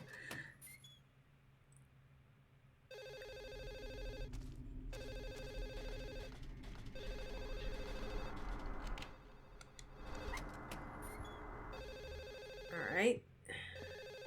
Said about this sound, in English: It sounds like we're getting closer to where the phone is actually ringing.